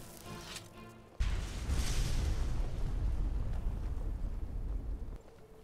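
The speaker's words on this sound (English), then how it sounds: "That was a big explosion." A big explosion in the video game Enderal bursts in loud and sudden after a quiet moment, then rumbles on as a long, heavy, low roar before cutting off near the end.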